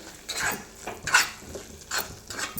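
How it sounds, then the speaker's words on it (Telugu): Ghee is stirred into a semiya burelu batter, giving rhythmic spoon-against-bowl scrapes and clinks. About four distinct strokes come close and at moderate volume, with no talking. "నెయ్యి కూడా వేసి మొత్తం అంతా కలిసేట్టు మంచిగా కలపాలి"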